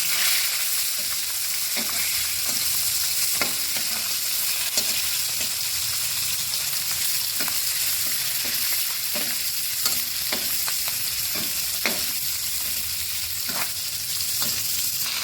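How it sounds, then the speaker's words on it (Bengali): Koi fish fry in oil with a constant, dense sizzle, and a utensil stirs or nudges them with repeated short taps and scrapes. The sound is close and steady, with no speech. "মাছগুলিকে এখন তেলের মধ্যে ছেড়ে দেব ভেজে নেব মাছগুলো লাল লাল করে"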